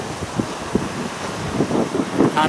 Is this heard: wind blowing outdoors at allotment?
yes